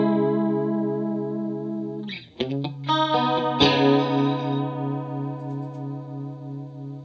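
An Ibanez CSL vintage chorus pedal, made in Japan, colors an electric guitar with a shimmering, wavering chorus. Sustained chords ring out, then a run of quick plucked notes follows, with no talking.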